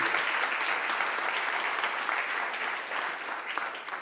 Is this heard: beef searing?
no